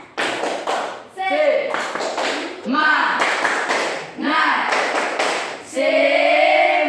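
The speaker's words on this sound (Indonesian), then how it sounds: "Satu orang pimpin kita untuk tepuk semangat." A standing group performs tepuk semangat, a rhythmic spirit clap, in bursts of fast synchronized hand claps broken by short pauses, with chanting and shouted voices mixed among the claps.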